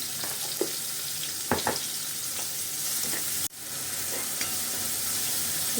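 Onions sautéing in a pan as the base for a methi chicken gravy: a steady sizzle with occasional stirring scrapes and clicks, close and alone without talk.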